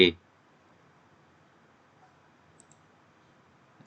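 A computer mouse clicks its buttons with one sharp, close click at the start, followed by a few faint ticks in an otherwise quiet room.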